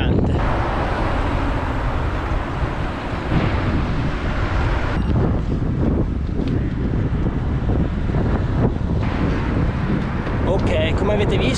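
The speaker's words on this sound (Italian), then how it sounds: "sto vento è massacrante" Strong wind buffets the microphone in a constant loud roar while cycling near Voghera, Italy, with gusts rising and falling throughout.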